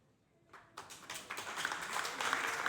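Applause at an inauguration ceremony for the René Philogène intercommunal centre in Pointe-Noire, starting faintly and then swelling into steady, dense clapping that grows louder toward the end.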